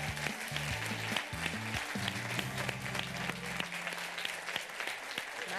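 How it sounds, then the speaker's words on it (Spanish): An audience at a televised regional show in Garrovillas de Alconétar claps steadily and energetically, a dense sustained applause with low musical tones playing underneath. "Venga, un aplausito, hombre."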